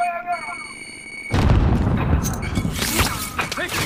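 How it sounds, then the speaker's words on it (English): A grenade blast in the Call of Duty video game, a sudden loud broadband boom that cuts in after a quiet opening of game tones and rumbles on with debris and crackle, with players talking over it. "Grenade out!"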